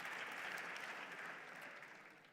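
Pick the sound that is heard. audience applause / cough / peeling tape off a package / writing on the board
audience applause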